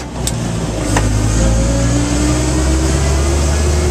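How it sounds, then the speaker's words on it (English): A 1948 Dodge truck engine pulls hard through the gears, a loud, close, continuous drone that rises steadily in pitch as the truck gains speed, with no talk over it. "We're going to get up a little speed, and we're going to go to fourth gear"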